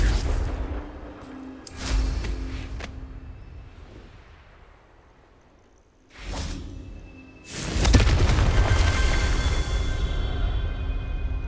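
A Confringo fire spell from Hogwarts Legacy on PS5 erupts in several booming, whooshing blasts, with bursts around the start and a big swelling explosion that rumbles on near and loud toward the end.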